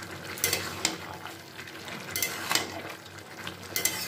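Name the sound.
stirring gourd greens with ginger and lentil dumplings in a pan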